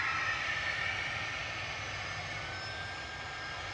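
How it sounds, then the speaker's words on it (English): A Qatar airliner taxiing out at Manchester Airport produces a steady, fairly distant engine hum with a high whine, even and unbroken across the short stretch. "I think Qatar is literally taxiing out now."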